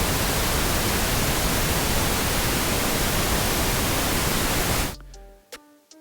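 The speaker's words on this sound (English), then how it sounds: "When I press this on button on our pink noise track, it should peak at about -6." Steady, dense broadband pink noise test signal fills the clip at a constant level, peaking around -6, then cuts off abruptly near the end, leaving faint tones and quiet room sound.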